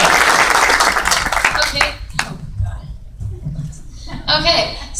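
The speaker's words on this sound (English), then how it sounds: "we got applause." A youth church gathering breaks into audience clapping and applause for a couple of seconds, then it fades into murmuring and a speaker talking.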